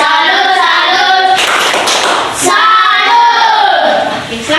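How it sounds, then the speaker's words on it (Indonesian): Primary school class in an Indonesian language lesson clapping a rhythmic cheer for classmates at the front, loud close bursts of hand claps in patterned groups, with children's voices chanting along between the claps. "Sekarang tepuk salut untuk teman-teman di depan."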